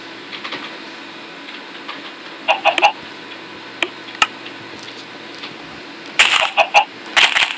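Chickens cluck in short bursts over a quiet, steady background hum, with a couple of clustered squawks and scattered single clucks.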